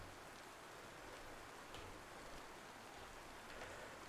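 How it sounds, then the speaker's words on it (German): Steady rain falls in the survival game DayZ, a constant dense hiss of drops on surfaces, fairly loud and continuous throughout with a few brief pattering spikes and no talking. "Herzlich willkommen beim Regensimulator."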